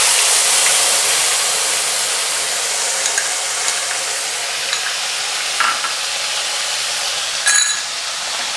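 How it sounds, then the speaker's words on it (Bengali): Tomato, ginger and green chili paste fries loudly in oil left from frying potatoes for an aloo paneer dum biryani, a dense continuous hiss close by with a few faint clinks of stirring. "আলুগুলো ভেজে তুলে নেওয়ার পর ওই তেলে আমি টমেটো, আদা আর কাঁচা লঙ্কার পেস্টটাকে দিয়ে দিচ্ছি।"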